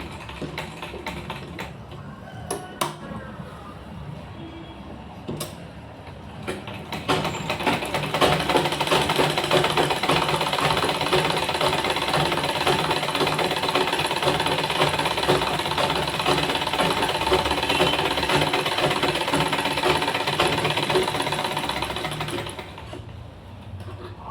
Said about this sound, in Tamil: அப்படியே மேலே ஒரு படிமான தையல் போட்டுடலாம்